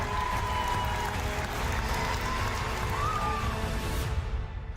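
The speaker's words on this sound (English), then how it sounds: "One more round of applause for your Artemis III prime crew." Steady applause from a distant crowd at NASA Johnson Space Center in Houston, a continuous wash of clapping at moderate loudness that fades slightly at the end.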